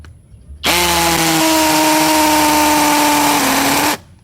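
A DCK KDJZ23-10i 12V brushless drill fitted with a 10 mm bit whines loudly and continuously for about three seconds, close up, with its pitch dipping slightly near the end before it stops abruptly.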